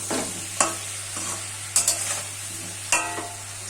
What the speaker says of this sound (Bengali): কাশ্মীরি লঙ্কাটা দিয়ে একটু নাড়াচাড়া করে দিচ্ছি।